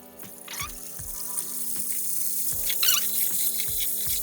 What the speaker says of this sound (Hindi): तो अब इसमें हम जो है ना चिकन डालते हैं।